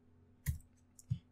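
Two crisp keystrokes on a computer keyboard, close and isolated against a quiet background, spaced about half a second apart.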